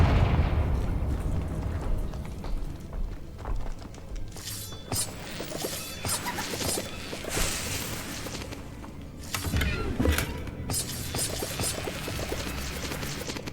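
A Confringo blasting spell from the video game Hogwarts Legacy bursts into loud explosive cracks and shattering debris, followed by rumbling, crackling aftermath and a second surge of blasts.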